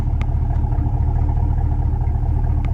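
A 2025 Chevrolet Silverado LT Trail Boss pickup idles with its muffler cut off, producing a loud, steady, deep exhaust rumble close by. A couple of faint ticks sit over the drone.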